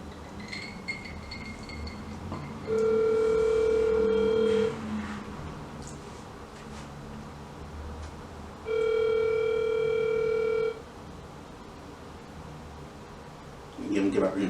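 A telephone ringback tone sounds while the caller waits for an answer: two long, loud electronic rings separated by a pause, over a faint room murmur, with rustling at the end.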